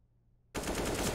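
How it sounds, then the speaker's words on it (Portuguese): M4 rifle fire in the video game Counter-Strike erupts after a half-second of near silence, a loud, sustained rapid burst that continues to the end, with no talk. "Vai tentando os disparos, mas o Exit consegue a eliminação"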